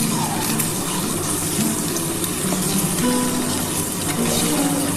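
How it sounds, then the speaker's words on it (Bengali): An egg frying in hot oil for a spicy Bengali egg curry, a steady dense sizzle and crackle that carries evenly from start to finish with no voices over it. "একটু অল্প করে ভেজে নেবে।"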